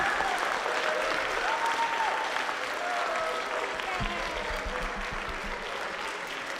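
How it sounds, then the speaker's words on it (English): Students and audience at a middle school sixth grade spring band concert applaud Mrs. Watson, a warm, steady round of crowd clapping that stays dense and even, with faint voices and a few cheers mixed in. "give a big warm round of applause for Mrs. Watson for all she's done for us"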